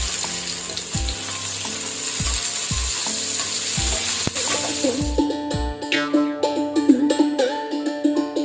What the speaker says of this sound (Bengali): এখন আমি গ্যাসটাকে একদম কমিয়ে দিলাম, কমিয়ে দিয়ে বেগুনগুলো ছেড়ে দিলাম।